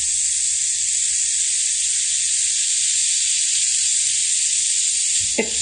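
Something melts with a sizzle under a cut from a hot-bladed knife, giving a steady, bright hiss that runs unbroken through the whole clip and ends in a short soft bump.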